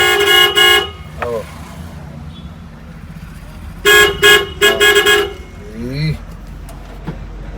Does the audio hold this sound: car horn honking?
yes